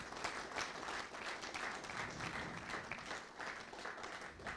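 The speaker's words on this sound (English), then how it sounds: "give another round of applause to the artists for their superb performances" Sustained audience applause for performing artists at an India–Bangladesh friendship celebration, dense steady clapping throughout, moderately loud with no voices over it.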